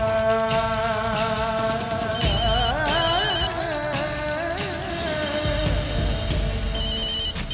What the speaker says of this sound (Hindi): वर्षा का फोन ऑफ है और सतीश फोन नहीं उठा रहा।